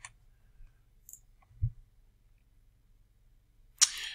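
A computer mouse gives a few sparse, quiet clicks in an otherwise quiet room, followed by a sharper click and brief rustle at the end.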